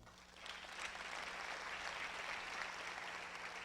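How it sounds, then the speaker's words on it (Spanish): Church congregation clapping for the Lord, rising after a brief quieter start into a sustained, even wash of many hands clapping, moderately distant and continuous. "Dele palmas al Señor."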